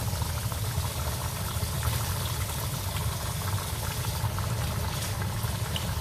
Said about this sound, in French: On va baisser le feu. Là, on va le laisser mijoter